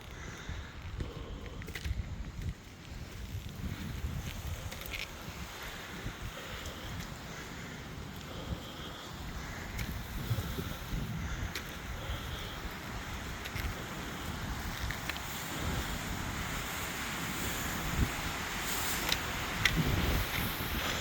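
Strong wind blows by the sea in a steady, loud rush, with low rumbling gusts that build slightly toward the end and no talking.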